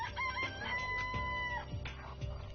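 A chicken in the Danganronpa video game crows in one drawn-out cock-a-doodle-doo, loud and close, with a few clucks around it and no talk.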